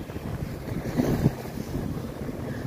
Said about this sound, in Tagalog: Pero mahangin.